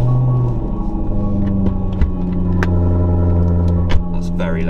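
A Maserati Quattroporte with a loud Quicksilver exhaust runs at home in the early morning, giving a deep, loud, steady rumble with a few sharp blips.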